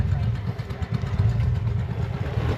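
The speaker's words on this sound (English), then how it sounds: "It's a small engine, but it doesn't need any more than what it's got." A small snowmobile engine idles at an outdoor snowmobile show, a close, steady low chugging with uneven pulsing, and voices chatter in the background.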